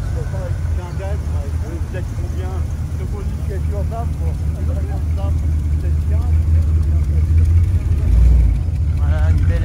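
A classic Chevrolet car's engine idles with a steady low rumble, heard close up beneath continuous talking voices, with a slight swell in engine level near the end.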